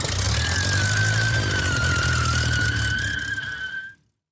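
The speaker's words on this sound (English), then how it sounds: "The roaring power plant and squealing tires soon brought Don scrambling from the office." An old Apache airplane on the ground has one engine revved hard while the opposite brake is stomped: a loud, steady engine roar with a high tire squeal rising over it for about four seconds before cutting off abruptly.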